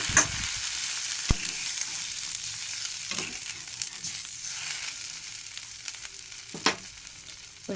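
Fried masala sits in a pan after water has been added. A soft, steady hiss and bubbling carries on under a few spoon scrapes and clinks, and no voice is heard.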